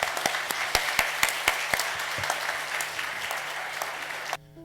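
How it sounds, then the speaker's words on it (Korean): A congregation in a Korean church applauds to welcome a youth pastor to the pulpit: dense, steady clapping with a few sharper individual claps, stopping abruptly near the end. "올라오실 때 우리 큰 박수로 환영해 주시길 바랍니다"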